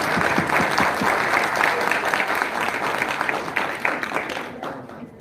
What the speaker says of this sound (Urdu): تو چاہوں گی بھرپور تالیوں میں آپ ان کا استقبال کریں.